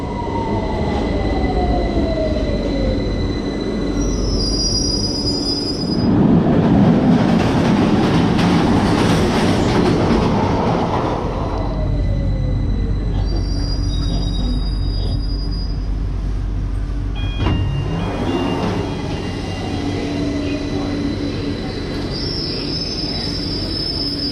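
A London Underground train rumbles loudly along the tracks, with metal wheels squealing in long, high-pitched whines and a steady clatter of carriages throughout.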